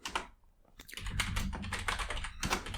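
A computer keyboard clatters under quick, close typing in a dense run of keystrokes, briefly pausing near the start and then resuming steadily, with no voice over it.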